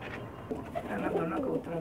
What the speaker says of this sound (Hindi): ये जी इनके ब्रीडर कबूतर हैं जी, बहुत ही नायाब माशाल्लाह।